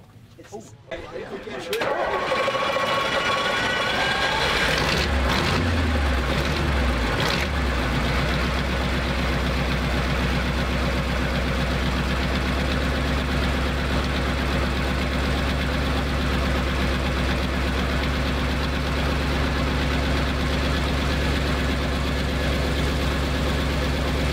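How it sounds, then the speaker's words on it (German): A big V8 engine at a vintage vehicle meet cranks, catches and settles into a deep, loud, steady rumble that continues without a break. "Da macht der V8 schon mächtig Eindruck."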